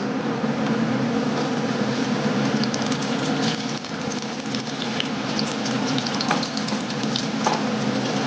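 Potato pieces frying in a pan for a mixed-vegetable vegetarian dish make a steady, dense crackling sizzle, like light rain, that holds at an even loudness throughout with no talking.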